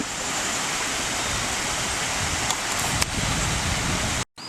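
Steady, dense rushing of a waterfall at Pole Brook fills the scene continuously, loud and close, before cutting off abruptly at the end.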